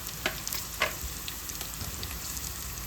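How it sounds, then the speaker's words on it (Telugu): Beans and carrots fry in oil with a soft continuous sizzle, broken by a couple of sharp stirring scrapes near the start, close and fairly quiet with no voices. "ఆయిల్లో తొందరగా ఫ్రై అవుతాయి"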